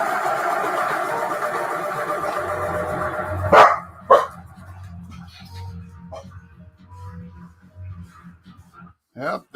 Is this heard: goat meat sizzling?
no